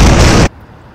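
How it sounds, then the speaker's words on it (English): A loud, dense burst of explosion noise fills the first half second, then cuts off abruptly to near silence. "I'm gonna put like a bunch of effects and explosions"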